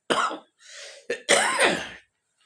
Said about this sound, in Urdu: گلا بھی خراب ہے اور کھانسی بھی بہت شدید آ رہی ہے